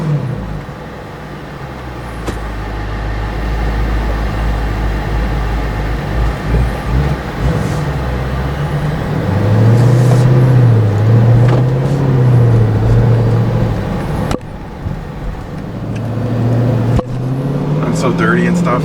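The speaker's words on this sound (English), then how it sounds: "The car is doing a little strange idle." A car engine idles unevenly with a low, wavering rumble while the air conditioning runs, its pitch rising and dipping over about nineteen seconds, heard close and fairly loud with some talk.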